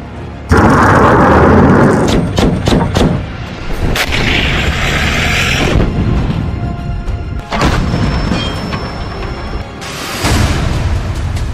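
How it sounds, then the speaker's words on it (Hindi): Heavy booms and blasts from drone, rocket and missile attacks on Kyiv, loud and continuous with repeated impacts, rumbling low end and sharp bursts throughout, one long tone appearing midway. "ड्रोन और रॉकेटों से एक साथ हमले हो रहे हैं"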